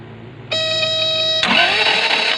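An Isuzu 4JG2 diesel engine with a broken timing belt is cranked once by the starter, giving a short, close whirring crank that shifts partway through. It does not catch.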